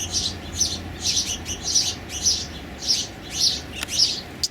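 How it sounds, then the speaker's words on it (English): House finches chirp in a steady series of bright, short calls, fairly close, over quiet backyard background noise. "in the background are house finches"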